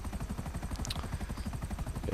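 A helicopter in the video game GTA Online thrums steadily up close, its rotor chopping in a fast, even rhythm throughout the short stretch, with no voices.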